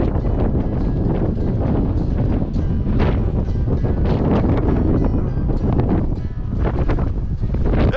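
Strong wind roars outdoors on a mountain during a 60 mph blizzard, a loud, constant blast buffeting the microphone with gusty surges and no break across the whole stretch.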